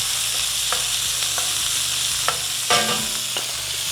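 Pork mince frying in a pan for san choy bow, a steady soft sizzle with occasional scrapes and taps of a utensil breaking up the meat, close and moderately quiet, no talking.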